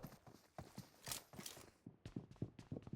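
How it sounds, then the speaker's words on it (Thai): Footsteps in the PUBG Mobile shooter, a run of regular, fairly close thuds with a clip-clop quality, moving steadily over a steady game background. "โหแล้วมีเสียงเท้ามาอีกนะครับ"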